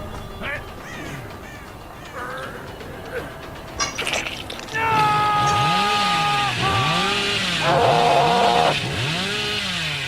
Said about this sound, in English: Okay, I'll need to stop that chainsaw.